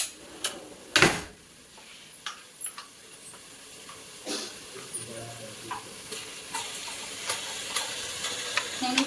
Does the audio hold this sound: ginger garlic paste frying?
yes